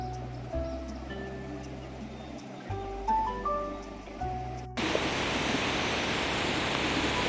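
The Gori Ganga river flows near its confluence with the Kali river at Jauljibi, on the India–Nepal border, as a loud, even rush of water that takes over sharply after several seconds of quieter, tonal sound.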